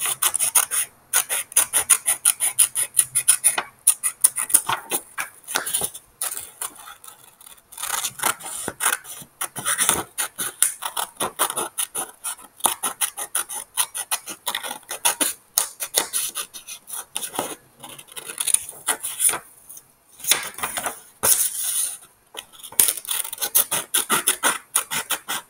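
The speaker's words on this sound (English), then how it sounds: "I'm going to cut the menorah. I'm going to follow the dotted line." Scissors cutting out a paper menorah along a dotted line, close, crisp snips and rasping paper sounds in irregular bursts separated by short pauses, with no talking.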